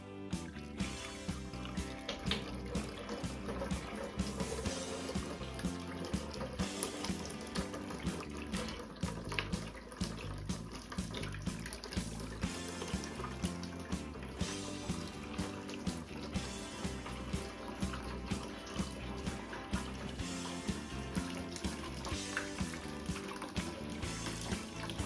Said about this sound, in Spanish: Aquí por esta entrada se le va a echar el agua fría y acá el agua caliente